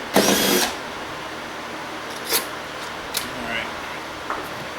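A power tool backs screws out of a server blade during scrapping, with one short whirring burst at the start and then a few small clicks and knocks of hardware.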